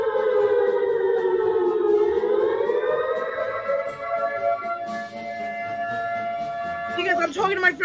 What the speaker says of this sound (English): There's a siren running in my background.